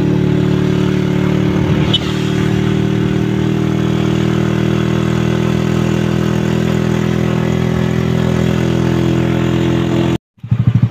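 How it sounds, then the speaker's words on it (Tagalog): A motorized tricycle engine drones steadily and loudly throughout the ride in Iloilo, with a brief jolt near the two-second mark before the sound cuts out abruptly near the end. "Kabit ako sa tricycle."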